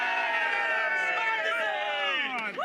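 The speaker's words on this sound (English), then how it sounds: "How about a little cheer for the winner?" Racecourse crowd at Cheltenham cheering the winner, a broad roar with whoops and voices rising and falling, dense and continuous under a close announcer-style voice speaking.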